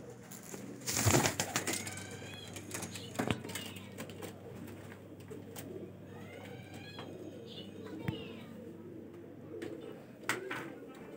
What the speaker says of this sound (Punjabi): ਕਬੂਤਰ ਫਿਰਦੇ ਟੁਰਦੇ ਦੇਖ ਲਓ